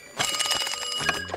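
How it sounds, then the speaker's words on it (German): A cartoon telephone rings in a SpongeBob episode, a loud, bright, rapidly trilling bell that rings on its own for a little over a second. "Direkt danach klingelt das Telefon und Siegbert Schnösel geht ran."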